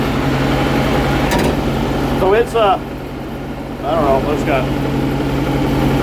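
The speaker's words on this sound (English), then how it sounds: "I'll get it over here and show you this tractor." A John Deere 2140 tractor engine idles steadily at close range, a low continuous rumble running through the whole clip while someone talks over it.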